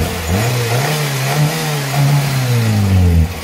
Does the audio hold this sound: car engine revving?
yes